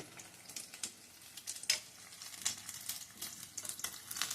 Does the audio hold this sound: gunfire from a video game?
no